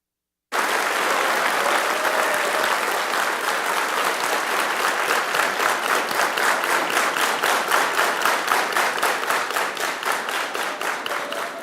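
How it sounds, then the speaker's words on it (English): A lecture audience bursts into applause to welcome the speaker. The loud crowd clapping starts abruptly, then gradually falls into a regular, synchronized rhythm of unison claps that keeps going to the end. "I appreciate the round of applause"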